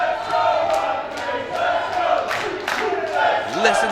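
Wrestling crowd at a live event in Carlisle roaring and cheering, a loud surging mass of voices with sharp shouts and whistles rising above the din.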